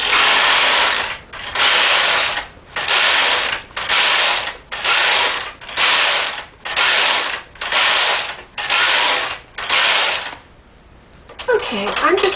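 A domestic knitting machine carriage is pushed back and forth across the needle bed, knitting rows in about ten regular, evenly spaced passes of loud mechanical clatter and ratcheting, then a short pause before a final burst.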